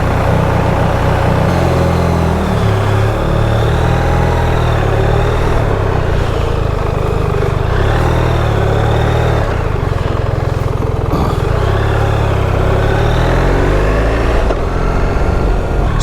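Motorcycle engine running steadily at idle, a constant low throbbing rumble heard close by and loud for the whole stretch, with no talk over it.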